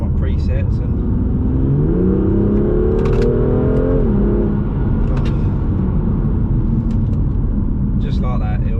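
A BMW M2 Competition engine revs and accelerates with a deep, rising roar that climbs through the gears, loud and close, as someone speaks over it.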